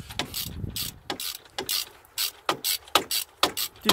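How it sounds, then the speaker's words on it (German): Rapid ratchet clicks from a wrench with a 17 mm socket turning out the belt tensioner bolt on a BMW 316 E46, loud and close, in repeated short strokes of even rhythm. "Mit einer 17er Nuss lässt sich das Ganze herausschrauben."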